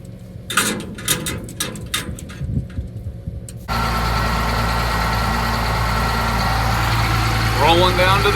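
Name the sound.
old tractor engine idling while warming up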